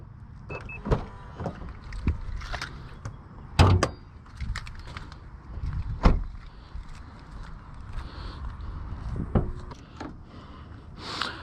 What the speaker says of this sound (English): We'll pop the hood, see what that looks like.